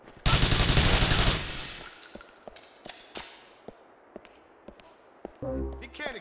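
In GTA IV, a rapid burst of automatic gunfire hits near and loud for about a second, followed by scattered single shots and impacts, with a voice talking toward the end.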